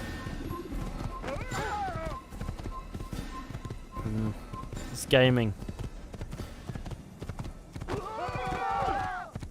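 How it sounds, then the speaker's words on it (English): A horse in the video game Assassin's Creed gallops with rapid hoof clip-clops and lets out a sharp whinny partway through, while a person talks over the game sounds. "This horse is doing bits."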